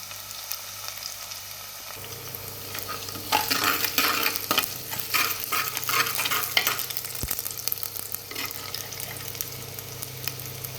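Crushed garlic, small chopped shallots and ginger fry in oil for a fish curry, a soft sizzle that swells as a spoon stirs and scrapes the pan, with one sharp knock partway through.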